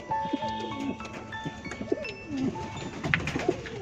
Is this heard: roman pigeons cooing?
yes